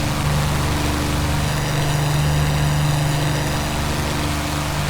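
Simulated Supermarine Spitfire engine from Prepar3D, a loud, continuous droning piston roar with steady harmonics and no talking.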